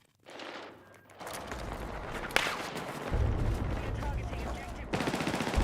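Bursts of SMG gunfire in the video game Battlefield 6, rapid loud volleys that start and stop in quick succession with a sharp crack midway, dense and continuous toward the end.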